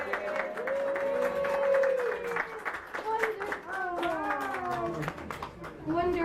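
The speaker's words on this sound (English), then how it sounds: "Can everybody clap for her?" Guests at a Frozen-themed third birthday party clap for Princess Monroe, scattered applause mixed with children's excited voices and singing-like chatter, lively and close.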